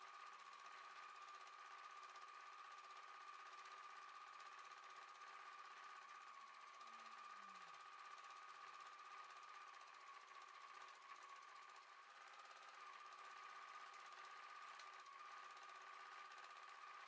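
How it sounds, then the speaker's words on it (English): Domestic sewing machine doing back-and-forth satin stitch thread painting on fabric feathers, a steady continuous mechanical whir heard alone and faint throughout. "this back and forth stitch, creating a satin look, is one of the easiest to master, especially when using a domestic sewing machine"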